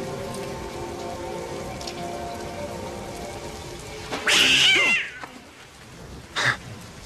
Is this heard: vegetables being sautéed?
no